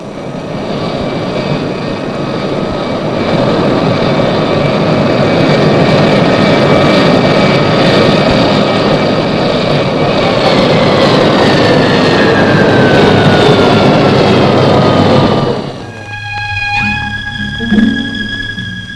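TWA airliner landing at Geneva airport, a loud, near jet roar with a whining tone that sweeps downward, sustained for about fifteen seconds before cutting sharply to a quieter hum with faint tonal remnants.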